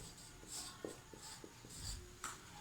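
Pen writing on paper, close and quiet, with short scratchy strokes coming in small bursts and brief pauses between them.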